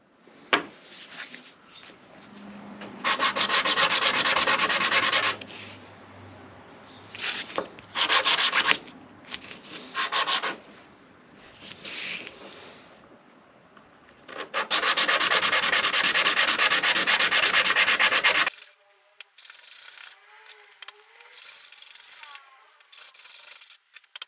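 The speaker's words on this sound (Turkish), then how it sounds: "Şimdi zımpara kısmına geçiyorum." Hand sanding a mold for a helmet camera mount with sandpaper, loud rough scraping in long strokes and short bursts, with pauses between, ending in quieter scattered rubbing.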